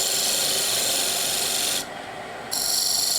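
A small square Easy Wood carbide tool cuts a wooden cap spinning on a lathe, a steady close rasping scrape that drops away briefly as the tool lifts off, then bites back in.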